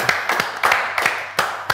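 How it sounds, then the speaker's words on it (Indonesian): A small audience claps at a celebrity couple's chat show appearance, a few sharp, uneven claps spaced irregularly, close and fairly loud, with no talk over them. "Tepuk tangan dong, Rizky bilang."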